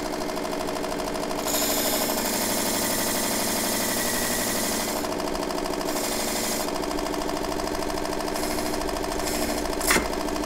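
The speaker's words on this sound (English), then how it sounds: "That's when we're going to move her to the next machine, which is the little sander." Small electric sander grinding down a burr in a workshop, a continuous loud motor drone with a harsh grinding texture that rises in pitch midway, close up with no talk.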